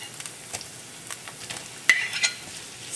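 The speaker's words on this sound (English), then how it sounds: "Chilies and garlic are frying, so we'll go ahead and add our" A soft, steady sizzle of onions frying in a pan with chilies and garlic, with occasional light scraping and clinks of stirring, quiet and close.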